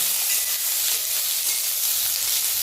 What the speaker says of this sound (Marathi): तर यात हा स्वच्छ धुवून घेतलेला लसूण आपण टाकून घेऊया।